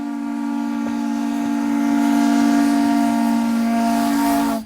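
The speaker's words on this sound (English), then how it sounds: "there's nothing regular about being able to step aboard an old steam train" A steam train's whistle blows long and loud, a sustained steady tone that cuts off abruptly at the end.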